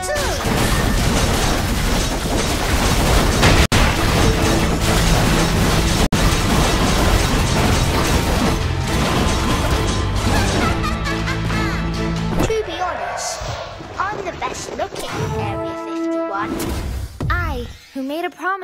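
Mortar blasts from the Auto Chess mobile game burst out amid dense, nonstop game music and effects, with heavy booms packed together before the mix thins into ringing tones near the end.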